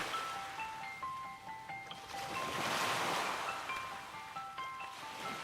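Ocean waves break on Gangneung beach, swelling to a soft surging hiss midway and then receding, with gentle melodic tones playing over the surf.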